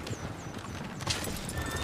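Horses clip-clop close by in Red Dead Redemption 2, a dense, quick run of hoofbeats on the ground with a brief whinny partway through, fairly loud and heard alone without talk.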